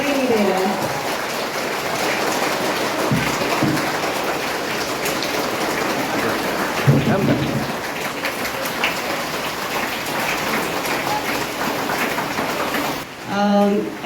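Steady rain pours down at an outdoor farewell function at a school, a dense, loud hiss that runs throughout, with brief voices faintly heard near the start and end.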